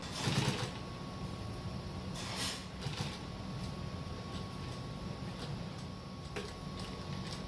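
A sewing machine stitching leather for a steering wheel cover hums steadily with a faint mechanical whir, a few brief clatters near the start, continuous and fairly quiet throughout.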